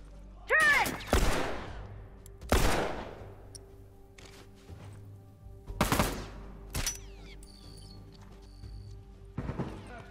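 Turret machine gun in a video game team battle fires several loud, sharp bursts at irregular intervals, each decaying quickly, with quieter gaps and faint background sounds between.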